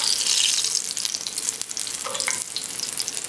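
Crawfish fritters fry in hot oil on a medium-heat stove, a close, dense sizzle and crackle that's loudest at first and then stays steady, with a few faint clinks.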